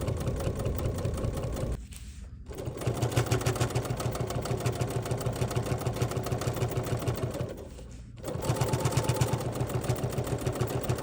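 Bernina sewing machine stitching slowly at a 3.75 stitch length around a fabric pie runner, a steady close mechanical whirr with a rhythmic needle pulse, pausing twice briefly before resuming.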